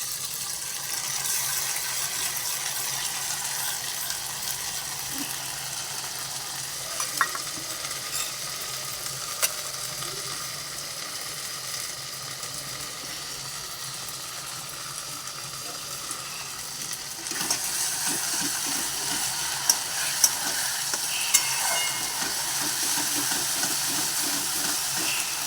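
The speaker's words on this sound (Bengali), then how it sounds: "এবার আমি এর মধ্যে বেটে রাখা যে আমার মশলাটা ছিল, পেঁয়াজ রসুন আদা লঙ্কা আর টমেটো দিয়ে দিলাম" A ground paste of onion, garlic, ginger, chili and tomato frying in a pan, giving a continuous close sizzle and hiss with occasional stirring clicks and scrapes, no speech.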